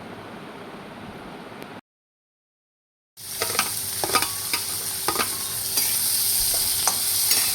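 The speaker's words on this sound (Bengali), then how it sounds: "এই মাছ ভেজে নেব।" Fish fries in a pan with a steady, close sizzle and occasional stirring scrapes; the sound cuts out briefly, then returns louder and busier.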